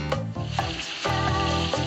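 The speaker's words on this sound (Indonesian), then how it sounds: "kita bisa bikin bakso kornet goreng kuah" Corned beef meatballs frying in a pan, a steady close sizzle with stirring, backed by bright music with beat-like pulses; no voices.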